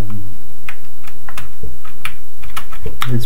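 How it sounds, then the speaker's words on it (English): The keyboard of a Toshiba Satellite A100 laptop is pressed back into place, giving a run of close, sharp plastic clicks and taps in an uneven rhythm, with no voices. "let's put the keyboard back on"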